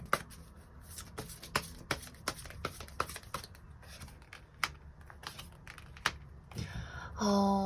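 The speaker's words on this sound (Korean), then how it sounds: "그럼 연애를 위한 조언 카드 몇 장 더 뽑아보도록 하겠습니다." Tarot cards are shuffled and drawn, a run of crisp flicks and taps in uneven rhythm close to the mic, ending in a louder riffle sweep, with no talking.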